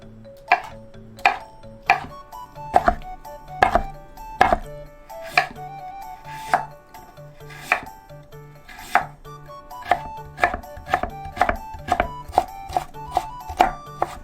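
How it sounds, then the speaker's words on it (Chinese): Ginger, carrot and wood ear mushroom being cut into strips with a knife on a board: a close, crisp series of sharp chops, irregular at first and then settling into a quicker steady rhythm. "再来把老姜、红萝卜、木耳切成丝状。"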